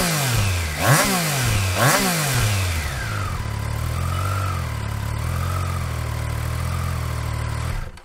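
A 2021 Triumph Trident 660 mid-size motorcycle revs twice sharply with a raspy, fruity exhaust note, then settles into a wavering idle and gentle throttle blips, close and loud with no talk.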